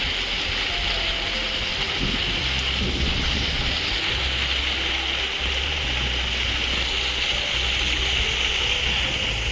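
The Akashganga stream near Tapovan on the Gaumukh trek above Gangotri rushes in a constant, loud, broadband roar of flowing water with no pauses.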